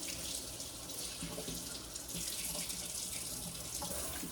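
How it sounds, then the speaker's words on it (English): Running kitchen tap splashes steadily into the sink as items are rinsed, a continuous close hissing water rush with no talk. "Dunk that in there. Tap, tap. Rinse it a bit."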